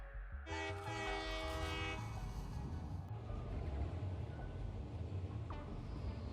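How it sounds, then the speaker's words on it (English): A train ride in the Satisfactory video game: a loud horn blast at the start, then a steady rumbling roll of rail cars with faint clatter, continuing without talk. "Let's go ahead and hop in this train, which will take us to the other side of the Spire Coast."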